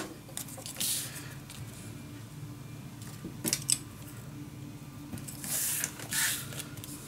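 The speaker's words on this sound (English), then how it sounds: "All right, cutting a strip." A strip of paper being cut with scissors for a steampunk dos-a-dos mini album, a few crisp snipping bursts spread across a quiet room hum, close and moderately loud, with no speech.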